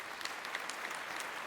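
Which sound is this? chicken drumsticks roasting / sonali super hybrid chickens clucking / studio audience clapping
studio audience clapping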